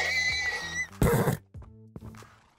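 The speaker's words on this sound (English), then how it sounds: "Is it just horses moving around?" Horses in the modded Minecraft game SevTech: Ages of the Sky give a few sharp, close whinnies and snorts in quick succession, separated by brief silences.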